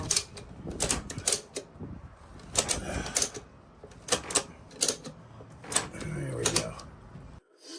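A wrench ratchets repeatedly while cinching a motorcycle tie-down on a trailer, sharp clicking bursts in quick clusters close by, with a person speaking between them.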